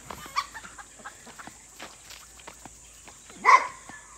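Roosters and chickens cluck on a farm, mostly soft and scattered, with footsteps and small rustles. One louder, closer squawk breaks out near the end and there is no talk.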